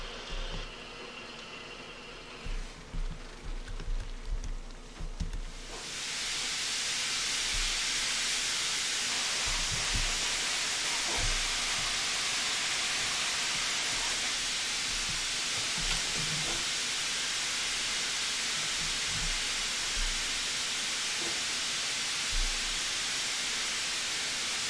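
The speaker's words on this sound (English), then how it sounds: "the injectors are injecting now" Steam injectors on the locomotive 34027 Taw Valley in a train simulator, a loud steady hiss that starts abruptly after a few quieter seconds of cab noise and carries on unbroken.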